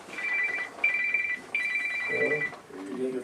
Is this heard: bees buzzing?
no